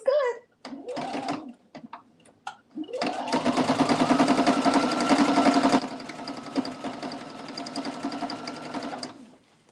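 A sewing machine stitching denim, a short start-stop burst followed by a long steady whirring run of several seconds that slows and fades, close up, with brief voices at the start.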